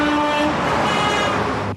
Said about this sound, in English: And Southern Californians honk their horns in support.